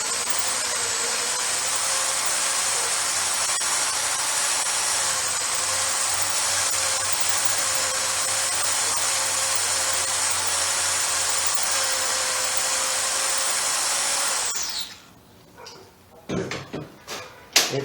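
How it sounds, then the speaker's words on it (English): Drill with a number 6 bit cutting into metal on a minibike build, a steady loud whine held for about fourteen seconds, then stopping and followed by a few clunks and handling sounds. "So I'm going to proceed to drill it out with a number 6 and then tap it with a 1/4-20."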